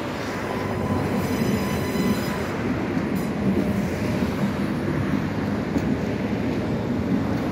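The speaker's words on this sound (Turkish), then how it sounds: "41 numaralı tramvayda sahil boyu çalışıyor" A Budapest tram on route 41 rolls along the Danube riverside, giving a steady, continuous rumble of wheels on rail. Faint higher squealing tones rise and fall above the low rolling noise.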